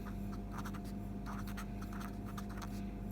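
Pen or pencil writing math factors by hand on paper, a steady scratchy stroking that runs continuously and close up, with short pauses between strokes.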